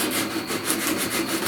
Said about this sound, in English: I am going to start taking my block here and sanding it down a little bit